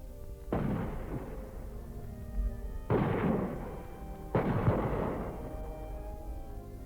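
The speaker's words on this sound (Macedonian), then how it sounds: "Градот е растресен од топовски грмеж." Three heavy booms of cannon artillery fire, each a sudden blast followed by a long rumbling decay, the second and third close together, loud and alone.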